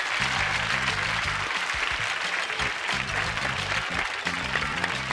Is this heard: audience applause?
yes